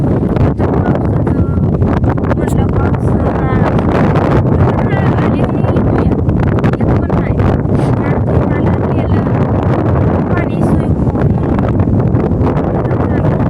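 Strong wind blows steadily and loudly, roaring and buffeting the microphone for the whole stretch, with indistinct voices faintly beneath it.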